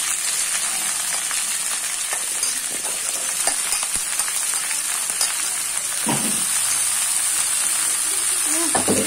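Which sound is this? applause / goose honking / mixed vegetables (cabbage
mixed vegetables (cabbage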